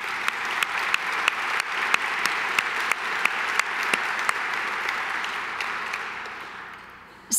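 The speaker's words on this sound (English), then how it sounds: "I again would like to applaud Stephanie." An audience at a preservation awards reception applauds steadily with scattered sharper claps, a moderately distant wash that fades toward the end.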